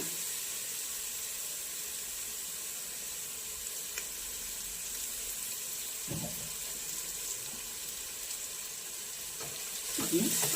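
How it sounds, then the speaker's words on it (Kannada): Masala with mint leaves fries in a pan over a low flame for chicken biryani, a soft steady hiss and sizzle with a few faint clinks, quiet and close. "ಈಗ ಸಣ್ಣ ಉರಿಯಲ್ಲಿ ನಾವು ಚೆನ್ನಾಗಿ ಫ್ರೈ ಮಾಡ್ಕೋಬೇಕು."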